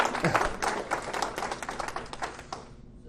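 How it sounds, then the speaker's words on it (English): Brief, fairly faint applause from a small audience at a conservative political gathering, a scattered patter of hands that tapers off at the end. "You can clap for the Alamo, folks."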